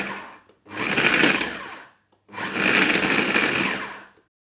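A food processor pulses polenta tart pastry dough in two loud, sustained whirring bursts of about 1.5 and 2 seconds, separated by a short pause.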